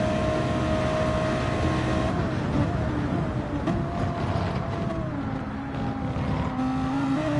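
An Audi R8 race car engine drones loudly on board during 24 Hours of Le Mans qualifying, holding a steady high-revving tone with shifting pitch as it works through the chicanes.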